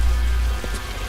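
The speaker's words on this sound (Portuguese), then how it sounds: "Chuva." Rain in the video game L.A. Noire at night, a steady loud patter of drops on surfaces with a deep low rumble, continuous throughout.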